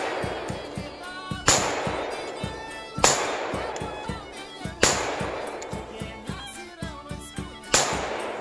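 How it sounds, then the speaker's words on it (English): Handgun shots at a range, four loud sharp cracks a few seconds apart over a steady background of other rapid popping gunfire, close and punchy. "Oh, should probably look where I'm shooting."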